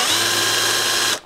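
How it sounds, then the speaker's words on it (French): A hole saw drills through the back of an electrical junction box with a steady, loud, continuous grinding whir that holds for over a second, then stops abruptly. "Je vais venir repercer le fond de ma boîte avec une scie cloche"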